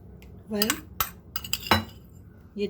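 A metal teaspoon clinks sharply against a cup or jar several times while coffee and sugar are measured for a homemade cappuccino, with short irregular taps close to the microphone.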